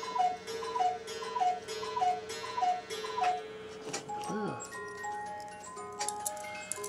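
An old cuckoo clock ticks in a crisp, even rhythm, close by, with a brief mechanical clunk and whir partway through and a short spoken exclamation.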